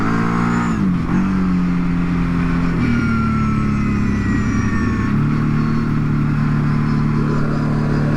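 An off-road ATV engine revs loudly and close up during a wheelie attempt on a trail, rising in pitch and then settling into a sustained roar with gear-like steps in tone.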